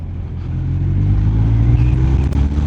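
A BMW R1250R motorcycle engine pulls hard under acceleration, a loud, low, rising drone heard from the rider's position with steady rumble and wind, with no talking.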